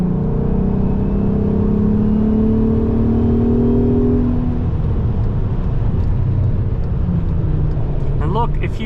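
A VW Golf R32 with a Scorpion exhaust drives along, its engine droning loud and low with a shifting tone as revs change, close inside the car, with a person talking over it.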